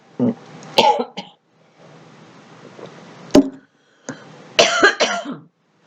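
A man with a lingering cough lets out several separate coughs and throat clears, close and loud, spaced irregularly with quiet gaps between them and no speech.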